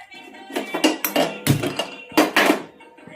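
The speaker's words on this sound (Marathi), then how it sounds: "आपण कढई गरम करायला ठेवू" A metal kadhai set down on a stove, giving a string of loud, close clanks and scraping knocks in quick irregular bursts, with no voice alongside.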